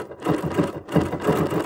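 A sewing machine stitches around a bunny outline on a reversible quilted table runner, running close and steady with a fast, even rhythmic chatter that dips briefly once, with no voices.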